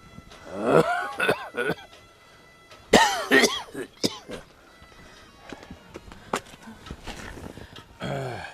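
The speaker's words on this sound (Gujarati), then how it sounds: "આટલી બધી ઉધરસ આવે છે તો અહીં ઓટલે બેઠા છું" An old man sitting on a house's front porch coughs hard again and again in a drama scene, several harsh bursts spread out with quieter gaps, and some voiced sounds mixed in.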